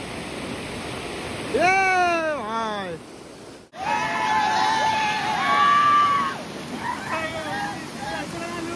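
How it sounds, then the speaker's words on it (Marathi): A steady roar of rushing water from the Bhekra waterfall fills the scene, with loud voices calling and shouting over it, broken by one brief cut. "घ्या भाई बघा कुठं आपलाय धबधबा."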